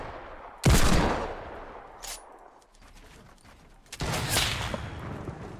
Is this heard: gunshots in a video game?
yes